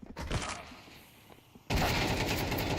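Gunfire in the video game Counter Strike 2 during a collegiate match, a burst of shots early, then a lull and a loud sustained volley of rapid automatic fire near the end.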